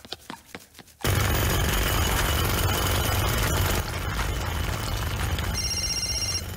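A cartoon telephone bell rings loudly and continuously, a harsh rapid metallic rattle that starts abruptly after a moment of quiet room sound and keeps going.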